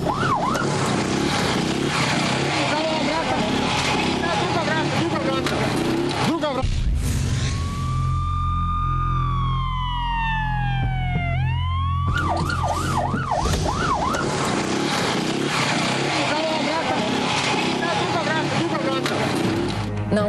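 Ambulance and fire engine sirens at a highway crash scene on the Belgrade–Niš motorway, wailing sweeps rising and falling loudly between stretches of heavy traffic and road noise, with someone talking over much of it.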